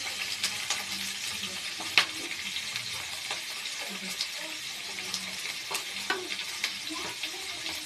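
Sliced onions and green chillies frying in a little oil for tomato palya, a continuous sizzle with intermittent stirring clicks and scrapes close by.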